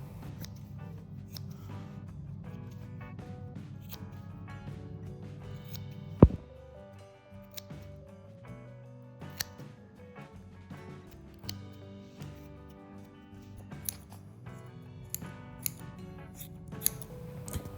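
Scissors trim a dog's fur between its paw pads: sparse, quiet snips and clicks at an irregular pace, close up, over a faint background hum.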